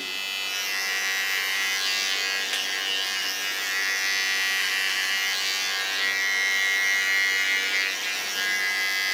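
A hair clipper buzzes steadily and close while trimming a rounded line around the ear during a pixie haircut, a continuous bright electric hum with slight shifts in pitch as it moves.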